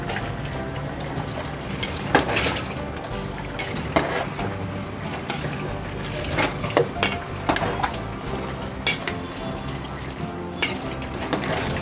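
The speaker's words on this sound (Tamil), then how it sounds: "அரிசி சேர்த்துட்டு நல்லா கொதி வருது." Water with rice boiling vigorously in a pot for chicken biryani, with a continuous churning, bubbling rumble and occasional louder pops and splashes, close and fairly loud, no talking.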